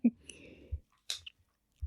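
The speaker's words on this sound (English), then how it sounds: "I can hear your chewing of your bone." Soft, intermittent chewing on a bone up close, with isolated crunches and moist clicks separated by short silences.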